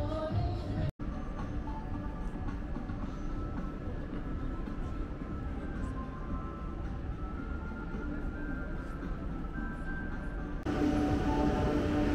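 A cable car gondola in Almaty rides along with a steady, loud rumbling mechanical drone and rattle throughout, briefly cutting out near the start and swelling slightly louder toward the end.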